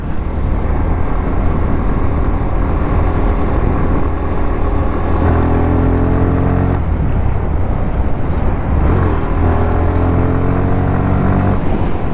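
Motorcycle ridden along a village road with engine braking: a continuous, loud engine drone close by, with pitch shifting up and down as the rider changes speed, steady for the whole stretch.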